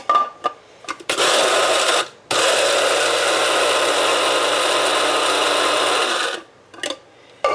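Electric grinder whirring loudly and steadily over about five or six peppercorns for a meatball mushroom bake, running in two long close bursts with brief clicks and pauses around them.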